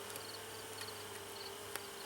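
Honeybees hum around a hive during an inspection, a faint continuous buzzing with brief louder passes, no talk.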